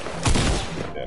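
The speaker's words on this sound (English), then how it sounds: "there's some shooting going on" A dense burst of video game gunfire, rapid thudding shots blending into a loud rumbling wash that fades out toward the end.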